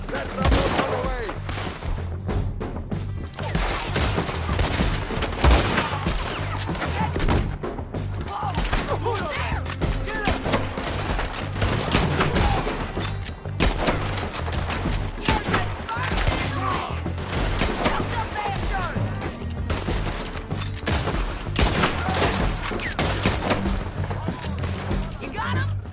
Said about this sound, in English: I'm firing!